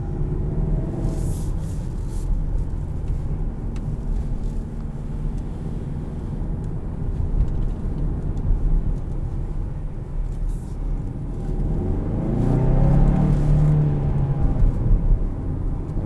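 A 2021 Kia Sorento EX with the 2.5 engine drives through S-turns, its low steady engine rumble and road noise continuous throughout and swelling louder near the end.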